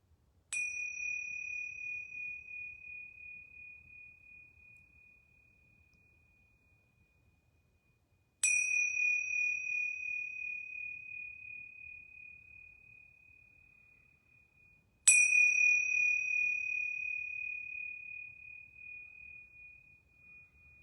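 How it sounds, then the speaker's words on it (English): Yoga bells ring three times, each a clear bright chime struck alone in near silence and left to fade slowly before the next strike. "And I'm going to ring these yoga bells 3 times."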